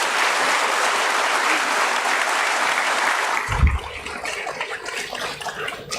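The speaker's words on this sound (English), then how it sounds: "A big round of applause to all of you." Applause at the Landmark Cars stock listing ceremony at the BSE. Dense, loud indoor clapping for about three seconds, then it falls away to a softer, scattered patter.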